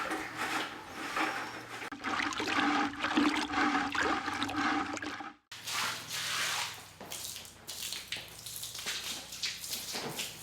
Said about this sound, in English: we're just going to swish some water around and get everything wet